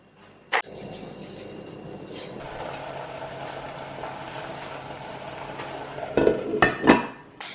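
Leek cooking in a pan gives a steady low sizzle and stir, with a sharp clack near the start and a flurry of utensil scrapes and taps toward the end.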